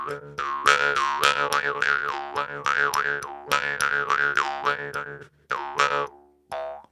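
Bamboo karinding jaw harp from Indonesia, played by striking the end of the cutout: a run of bright twanging plucks with vowel-like pitch sweeps, steady and rhythmic, close and loud, with short breaks near the end.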